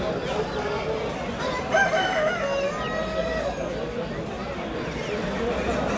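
A rooster crows once, a rising and falling call, amid a busy background of other fowl and faint human chatter at a poultry section of a bird market in Bursa.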